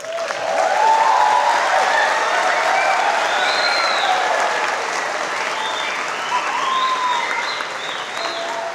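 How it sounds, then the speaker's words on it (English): An audience at an adult education center graduation ceremony breaks into sustained applause for the graduates. Dense clapping swells quickly and stays loud, with scattered cheers and voices rising above it before it gradually eases. "a big round of applause for the graduates"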